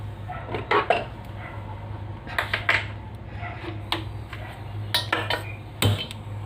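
A kadai (wok) is set down and pots and pans are handled in a home kitchen, giving scattered clinks and metallic knocks in short bursts over a steady low hum, close and fairly clear with no talking.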